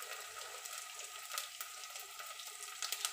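Onion and garlic paste frying in a pan for pav bhaji, a soft, even hiss of sizzling oil with a few faint crackles, fairly quiet and with no talking.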